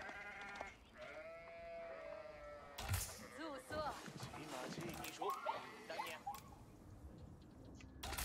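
Sheep bleat in Age of Empires IV during a China versus Malians match: several wavering, nasal bleats come one after another, clear over low game ambience, while someone talks throughout.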